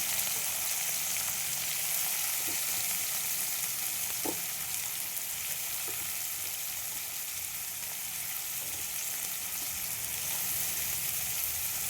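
Chopped onions, four of them, frying in hot oil for a goat meat curry, giving a steady, loud sizzle throughout with a few soft stirring knocks and no talking.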